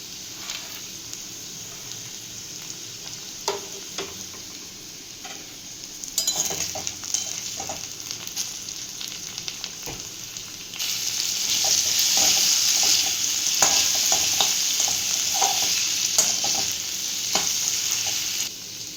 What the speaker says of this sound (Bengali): এবার কাজু বাদাম কিশমিশগুলো দিয়ে দেবো দিয়ে ভেজে নেব